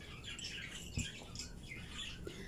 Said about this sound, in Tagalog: Sarap pakinggan ng mga huni ng ibon